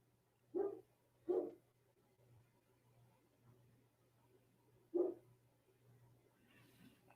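Dogs bark at a distance in three short, muffled woofs, two quick ones and then a later single bark, over a low steady hum in a quiet room.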